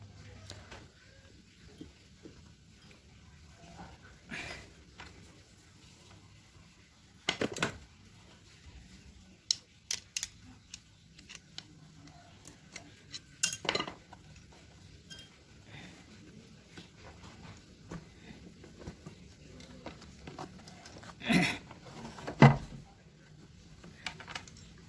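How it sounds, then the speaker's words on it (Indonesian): A Kawasaki ZX motorcycle carburetor is opened by hand in a quiet workshop: scattered sharp metallic clicks and clinks of parts and tools, a few louder knocks, over low background hum. "kita tinggal buka saja karbunya."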